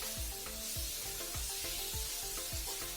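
Prawns sizzling and frying in a hot pan in a home kitchen, a steady hiss with regular clanks of stirring roughly every half second.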